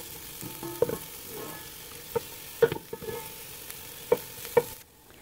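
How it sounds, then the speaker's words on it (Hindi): Onions and carrots sautéing in a little oil, a soft steady sizzle with several sharp clicks of a spatula stirring against the pan at irregular intervals, close and moderately quiet, ending in near silence. "यहाँ बिल्कुल थोड़े से ऑयल में मैंने ऑनियन और कैरेट्स को सौते कर लिया है"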